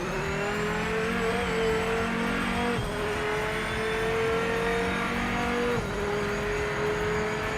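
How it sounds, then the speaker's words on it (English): A Dodge Viper engine in the racing game Project Motor Racing revs hard and steadily, its pitch climbing and then dropping sharply with each gear shift, twice over, loud and close with no talking. "Vipers in general don't ever sound like they're spinning a whole lot of RPM"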